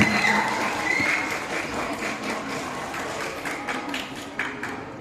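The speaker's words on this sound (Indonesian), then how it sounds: "Beri tepuk tangan sekali lagi yang meriah untuk kelas 2D." An audience applauds a middle school class after a Qur'an recitation presentation, a steady wash of many hands clapping at moderate distance that slowly eases off, with a few louder claps near the end.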